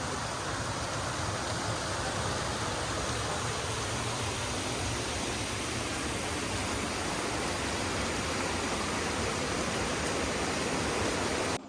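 Steady, loud rush of a river flowing beside a tropical villa near mountains and rice fields, a continuous broadband wash of water with no breaks and no voices.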